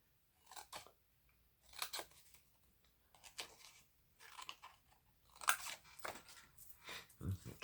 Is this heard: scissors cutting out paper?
yes